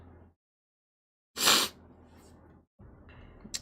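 One loud, sharp sneeze bursts out after a moment of silence, followed by soft breathing and faint background noise.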